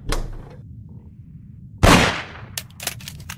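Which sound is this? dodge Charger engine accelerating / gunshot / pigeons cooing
gunshot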